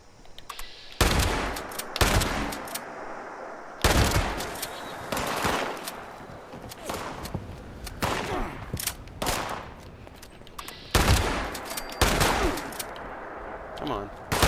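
Shotgun and sniper rifle fire in Fallout 76, a series of loud, sharp shots with echoing tails spaced every second or two, some in quick pairs, across the whole stretch.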